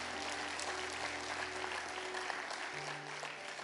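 Church congregation applauding steadily throughout, a dense, even wash of clapping from a crowd filling the space, with faint low tones in the background.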